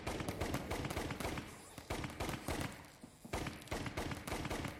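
Rapid weapon fire in the video game Operation Hardcore: a quick, dense string of sharp shots in several bursts separated by brief gaps, fairly close and punchy.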